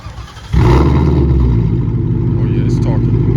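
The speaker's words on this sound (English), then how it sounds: "Let me do a quick startup for you all who haven't heard my car before." A 2021 Ford Mustang GT with muffler delete and X pipe starts up: a sharp crank then a loud, deep V8 roar settling into a steady rumbling idle, close by.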